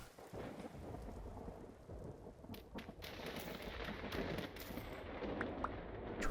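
Thunder rumbles through steady heavy rain in a Vintage Story survival game, the storm's roar dense and continuous with sharper crackling bursts partway through, no voices present.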